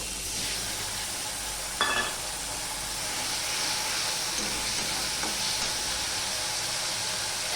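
Ginger water poured into a hot pan while cooking vegetarian dal, giving a continuous broad sizzling hiss throughout, with a few brief sharper crackles near the start and no speech.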